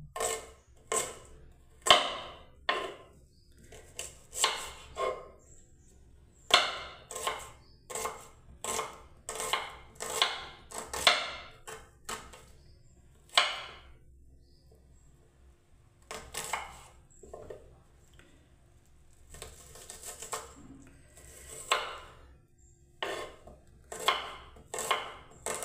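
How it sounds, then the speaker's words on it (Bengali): A knife chopping onions on a board: sharp, close taps in irregular bursts and runs, with short pauses between groups, clear and alone without talk. "আমার পেঁয়াজও কাটা হয়ে গেল"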